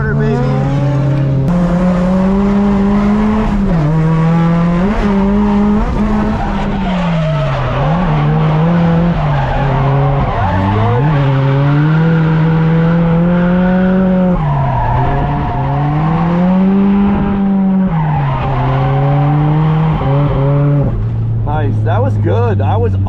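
A race car slides along a wall on a Japanese track. Its engine whines loudly and continuously while the pitch swoops up and down, rough scraping and tire squeal are mixed in, and a voice talks over it.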